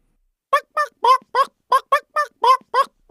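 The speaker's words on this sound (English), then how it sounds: "H for hen" A hen clucking in a steady run of about ten short, evenly spaced calls, close and clear with no other sound around them.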